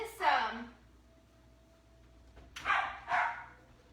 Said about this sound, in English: please excuse my dog. He's in the other room just barking his little head off.